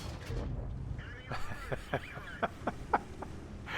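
A tank gun fires in the World of Tanks video game, with a series of sharp, punchy shots in quick succession after a brief low rumble, and a voice is faintly heard under the game audio.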